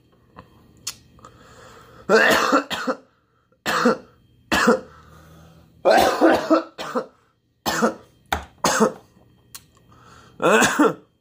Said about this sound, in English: Morning cough.